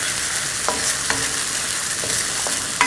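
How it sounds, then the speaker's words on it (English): Cauliflower manchurian frying in a pan with a splash of vinegar, a constant sizzle broken by a few scraping stirs of a utensil against the pan at irregular intervals. "And just keep on stirring a little bit."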